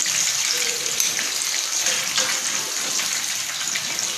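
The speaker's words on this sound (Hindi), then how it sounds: "बस मेरे ख्याल से 1-2 मिनट और लगेंगे, फिश आपकी फ्राई हो जाएगी" Fish, potatoes and green chillies frying in hot oil in a home kitchen, a steady bright sizzle and crackle running throughout at close range, with no talking.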